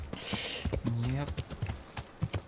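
Horse hooves clip-clop in a steady, evenly spaced rhythm in the Kingdom Come: Deliverance video game, close and fairly loud, with a person talking over the hoofbeats.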